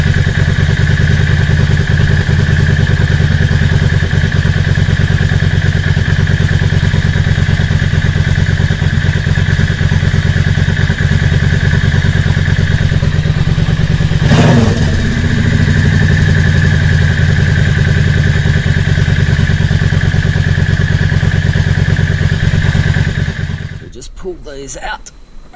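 A motorcycle engine idles at about 1100 rpm after carburettor synchronisation, a steady, close, continuous drone with one brief thump midway before it cuts off near the end.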